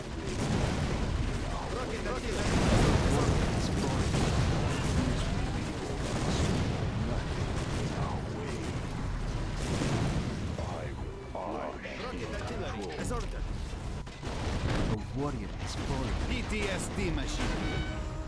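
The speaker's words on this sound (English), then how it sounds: "Rocket artillery, as ordered" Rocket artillery firing in the video game C&C Contra, a dense, continuous barrage of booming launches and blasts under voiced unit responses, loud and sustained throughout.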